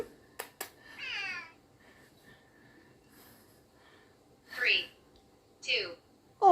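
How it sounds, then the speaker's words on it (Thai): A cat meows during a home beginner workout, two short clear calls a little apart standing out over quiet room sound, with a brief cry at the very start; someone speaks briefly nearby. "ว้ายแมวมา"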